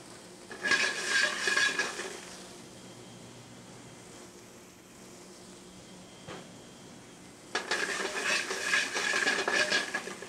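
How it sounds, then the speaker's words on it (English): Figs and mushrooms sauté in a pan, giving two bursts of brisk sizzling and stirring with clinks of utensil against pan, separated by a quieter stretch of low kitchen hum. "Give them a slight saute."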